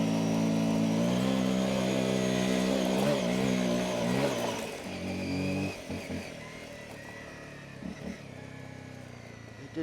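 A budget adventure motorcycle, an Ibex 450 or Honda CRF250L Rally loaded with luggage, revs steadily in first gear up a hill climb, a loud, close, droning engine that wavers as the throttle changes.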